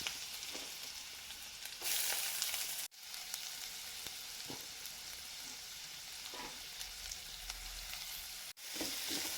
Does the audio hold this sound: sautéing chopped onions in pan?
yes